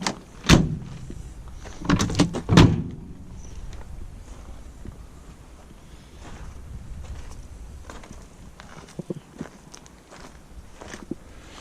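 A 1966 Volvo 122 four-door car has its door shut with a solid thud, followed by two more quick knocks about two seconds later. Quieter handling and rattling noises follow close by.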